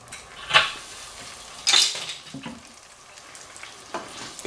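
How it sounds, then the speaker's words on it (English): Food sizzles softly in olive oil in a frying pan while a utensil scrapes and clinks against it in a few brief strokes. "Give that a nice little stir."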